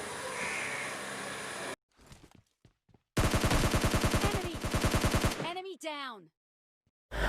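Rapid bursts of gunfire from the video game PUBG Lite, a dense rattling volley of shots in the middle of the clip, preceded by ambient game noise and a few isolated pops, with brief sweeping effects trailing off.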